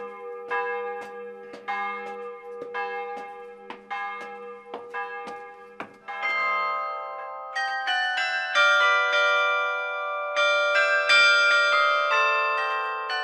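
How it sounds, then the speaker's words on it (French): Church bells of a clock-tower carillon ring a melodic sequence at noon, single strikes at first, then overlapping chimes that ring out and sustain, loud and clear with no talking, in the Tarn, France. "l'horloge du clocher sonne les 12 coups de midi"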